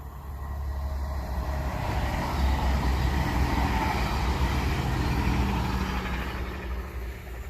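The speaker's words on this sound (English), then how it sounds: "That was a train to Curling." A train heading to Curling passes at moderate distance, a steady broad rumble and rail roar that swells and holds for several seconds before easing slightly, with no voices over it.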